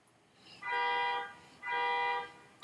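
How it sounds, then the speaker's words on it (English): A car alarm goes off outside, heard faint and distant through an open door. Two sustained electronic tones each last about half a second, separated by a short pause. "don't you hate car alarms?"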